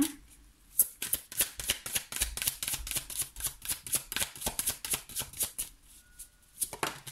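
Tarot cards being shuffled and drawn from the deck, a close run of quick papery riffles and flicks that stops briefly before one last card slides out, with no voices.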